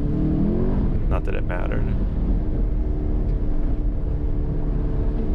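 Chevrolet Camaro SS 1LE running an autocross course at an SCCA Champ Tour event in New Jersey, its engine a loud, steady in-car drone held at a fairly constant throttle, with a driver speaking briefly over it.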